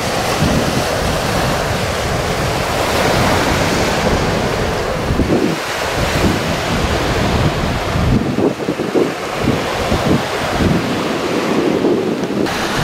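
Surf washing up on Tolstyak beach, an empty Black Sea shore below a collapsing cliff, roars steadily throughout with heavy wind buffeting the microphone; no one speaks.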